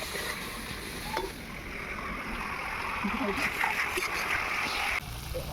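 Water is poured into masala curry frying in a pan for an Indian-style chicken parts dish, giving a bubbling splash and sputter over a steady hiss while a voice talks nearby.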